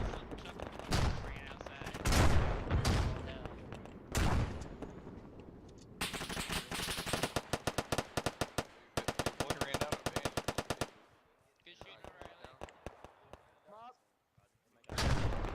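Incoming mortar fire during Marine platoon training: loud bursts of rapid automatic fire and sharp repeated blasts, with voices shouting between them and short pauses before another close report.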